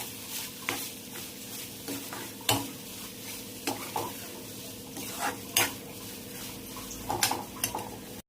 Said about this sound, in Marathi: पुन्हा एकदा छान सगळं मिक्स करून घेते